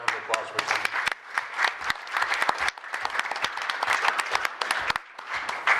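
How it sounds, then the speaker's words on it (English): Applause at a city council meeting honoring a youth golf tournament winner, a crowd clapping with sharp, uneven claps near the mic, briefly easing off around the middle before building again. "So big round of applause for Tinley."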